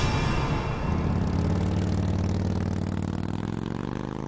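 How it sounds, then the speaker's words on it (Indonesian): A motorcycle engine rumbles nearby on a quiet street, a steady low mechanical drone with a slight rise and fall in pitch, no voices. "lo denger ada suara motor gak?"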